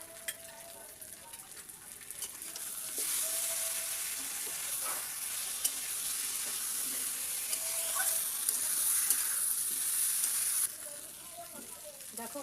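Ginger garlic paste fries with onions and potatoes in a pan, giving a bright, close sizzle that jumps up partway through, holds steady, then drops back, with occasional stirring clinks.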